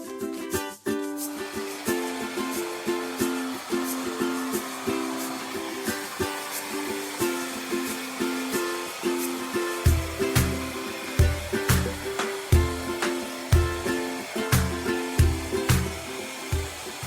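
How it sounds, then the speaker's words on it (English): A hairdryer drying wood stain on a decorative kitchen panel runs close and steady, its motor whine pulsing as it moves, with no talk over it. "Take the hairdryer gun and dry it."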